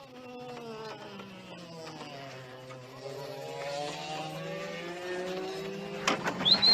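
Small racing kart engine driving on a track, a buzzing whine with steadily rising and falling pitch as it revs through gears, fairly close, with a sharper burst near the end.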